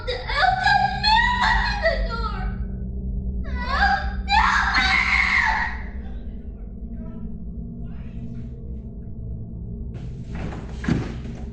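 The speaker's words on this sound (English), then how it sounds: "they suddenly heard their son screaming in terror" A child screams in terror at night in a house, several loud wailing bursts in the first half of the clip, then quieter sobbing and a door-like knock near the end.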